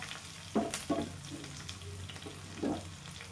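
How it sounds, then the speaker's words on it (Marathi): A paste of garlic and cumin fries in a pan with a low, steady sizzle. A few soft scrapes and stirs break in close by, and nobody talks. "छान भाजून घ्यायचं। लसूण जिरं छान भाजलं गेलं"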